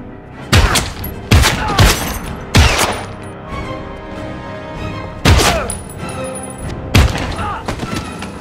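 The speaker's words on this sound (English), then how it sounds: "What the hell kind of gun is that that can one-shot someone?" Gunshots from the video game Heavy Rain: several loud, sharp blasts in an irregular burst, a few spaced apart with quieter game ambience between them.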